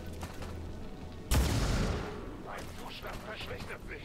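A single loud gunshot blast with a rumbling tail rings out in a video game shooting match, amid quieter in-game noise, with someone talking in German.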